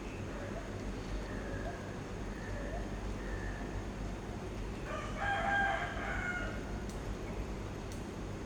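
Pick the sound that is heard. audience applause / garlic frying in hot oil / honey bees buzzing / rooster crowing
rooster crowing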